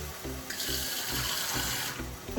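Water poured from a tap while making gram flour batter, a close, running splash and gush with a short pause, slightly uneven in flow.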